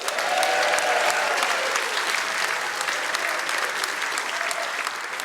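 A blues awards audience applauds and cheers at length, a thick, steady wash of clapping that fills the room and slowly eases off.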